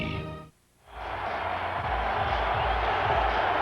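A large sold-out stadium crowd at a 1999 Vikings–Buccaneers football game at Raymond James Stadium, a steady, broad roar that cuts out briefly, then swells back and holds, with no talking.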